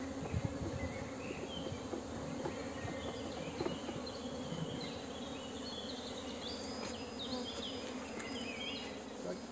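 Dense, continuous buzzing of many honey bees at an open hive during queen rearing in mini-plus hives, a steady close hum with no talking.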